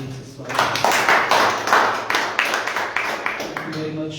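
A church congregation at a Sunday morning worship service applauds to welcome the worship team, a dense run of clapping that swells and continues steadily, with a voice speaking over it.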